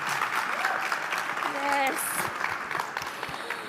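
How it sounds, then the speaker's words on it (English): Conference audience applauding an honoured guest, a sustained patter of clapping from a sizable crowd that fades a little toward the end, with a brief spoken word over it. "Yes, please clap."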